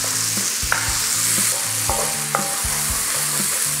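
Onions sauté in hot oil with a steady sizzle, while a utensil stirs and scrapes the pan in repeated, rhythmic strokes close by.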